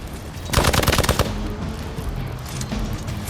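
Gunfire in Marvel's Midnight Suns comes as a rapid, loud burst of automatic shots lasting under a second, followed by a lingering rumble.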